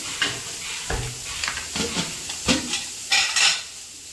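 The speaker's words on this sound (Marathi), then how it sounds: "तर आता 1 पळी अजून तेल टाकते याच्यामध्ये।" Oil sizzles in a pan while cooking a spicy drumstick-leaf curry, with short crackling bursts and a few clinks of a ladle against the pan, close and fairly loud, no talk.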